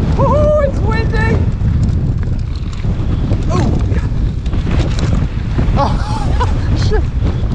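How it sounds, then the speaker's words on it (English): Strong wind roars and buffets the microphone in a loud, constant rush, with people's voices breaking through intermittently. "it's windy."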